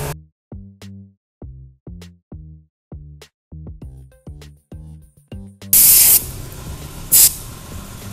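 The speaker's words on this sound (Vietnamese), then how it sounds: "Xịt lên đây nè, rồi xịt lên sên." Chain cleaner sprayed onto the drive chain of a Kawasaki Ninja 400 motorcycle: a run of short, evenly spaced pumping clicks, then loud close aerosol hisses, one long burst followed by a brief second spray.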